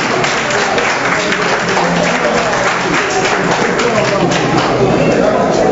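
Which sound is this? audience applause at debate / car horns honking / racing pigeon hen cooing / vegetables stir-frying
audience applause at debate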